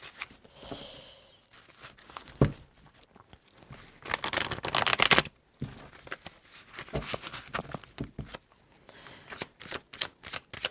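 Tarot cards being shuffled by hand close up, in repeated dense riffling and slapping bursts with short pauses between, with no talking.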